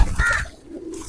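Pigeons, fancy bullet pigeons among Hercules and Bruce Lee Teddy birds, give a short soft coo in a loft, near and alone.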